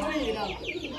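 Pigeons make soft, close coos in short, low, wavering calls, with other pigeons murmuring around them and a voice talking under the calls.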